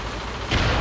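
A flashbang grenade detonating in the video game Overdrill, a loud, dense booming blast that swells about halfway through and fills the whole sound with a heavy rumble.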